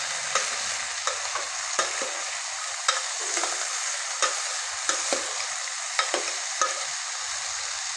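Boiled chana and bottle gourd stirred in a pan, a steady bright sizzle broken by regular spoon scrapes and taps roughly every half second to second, close and clear with no talking.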